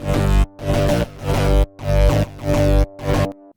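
A synth bass line in a freeware Cyberpunk track, layered with a sustained drone pad from the Lost in a Forest preset, plays about five long bass notes in a steady rhythm while the drone holds underneath.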